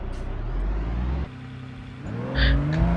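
A white Pagani supercar in a video game roars at high revs, cuts off abruptly for a moment, then climbs again in rising pitch as it accelerates flat out, loud and close with no talking.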